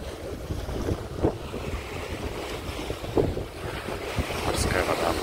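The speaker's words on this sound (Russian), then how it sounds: "Ветерок здесь, не знаю, надеюсь, он, кстати, не будет слышен на камере." Steady sea breeze at a port buffets the microphone outdoors, a low rushing roar with occasional gusts and faint surf-like wash in the background.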